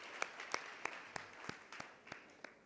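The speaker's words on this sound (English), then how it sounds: "May I have a round of applause for Mr." Sparse applause from a debate audience for Mr. Bwala, a few distinct claps ringing out at an uneven pace over a low room hum, fairly faint and thin rather than a full ovation.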